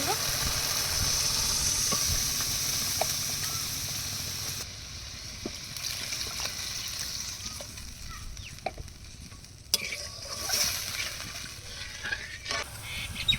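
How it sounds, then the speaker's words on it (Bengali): Bhetki fish curry gravy bubbling in a pan, a steady sizzling hiss with soft pops, fairly close, quieter partway through, with light clinks and faint background voices. "ঝোল ফুটে গেছে"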